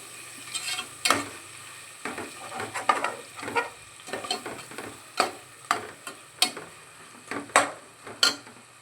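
Onions fry in a pan for egg biryani and a spoon stirs them, giving a steady low sizzle broken by repeated scraping clinks against the pan, close and without speech.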